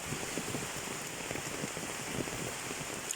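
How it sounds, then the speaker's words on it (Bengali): Steady rain falls in Bangladesh with a dense, even hiss of drops hitting surfaces. It is continuous and close, with no voices. "দেখেন বৃষ্টি"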